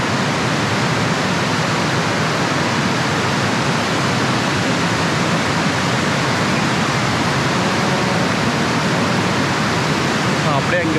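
Heavy, full-force water flow of Devkund waterfall in Maharashtra, a dense, steady roar that stays loud and unbroken from start to finish with no letup.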